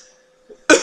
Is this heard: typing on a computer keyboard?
no